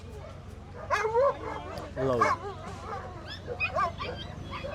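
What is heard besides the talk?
dogs barking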